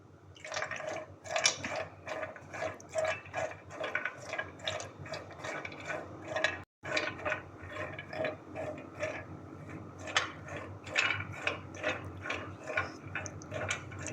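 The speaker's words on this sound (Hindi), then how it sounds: "पहले काजू, बादाम और पिस्ता फ्राई कर लेंगे" Cashews, almonds and pistachios frying in a pan give off a continuous crackle of quick sizzling pops and ticks, close and moderately loud, with one brief break midway.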